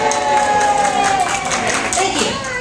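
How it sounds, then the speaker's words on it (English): Parents at a children's gym class cheer and clap together in a short, loud burst of overlapping voices and hand claps inside an echoing room. "let's go practice cheer on three"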